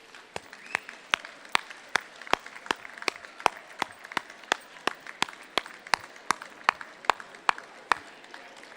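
Medical sciences commencement graduates standing and clapping for their families, a modest, sparse round of individual claps with sharp, distinct strikes over a soft crowd bed, moderately near.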